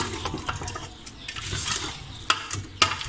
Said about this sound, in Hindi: पानी डालने के बाद हम इसे अच्छी तरह मिक्स कर लेंगे